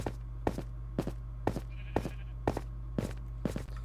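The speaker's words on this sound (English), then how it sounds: "I'm going to kill that sheep so I can get some wool and some meat" Sheep in the Minecraft video game bleat in short, evenly spaced calls about every half second, eight in a row, fairly close over a low steady background hum.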